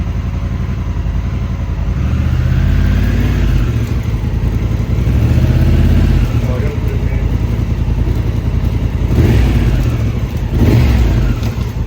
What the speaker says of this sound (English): So let's go down into gear, let the wheel spin.